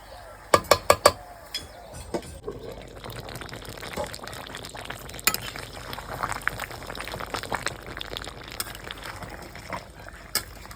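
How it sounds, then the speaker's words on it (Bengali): Goose meat simmers in a covered kadai with a continuous soft bubbling and spitting. A few sharp clicks sound early on, then irregular small pops continue without talk. "চলো এবার ঢাকা দিয়ে দিই আধ ঘন্টা কষে দেবো মাংসটা"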